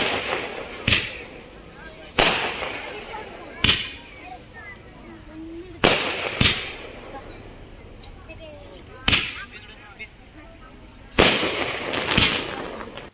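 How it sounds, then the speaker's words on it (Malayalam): Fireworks bursting at a temple festival: sharp, loud cracking bangs roughly every one to two seconds, each fading off, with crowd murmur and voices underneath between the blasts. "വർണ്ണാഭമായ വെടിക്കെട്ടോടുകൂടി"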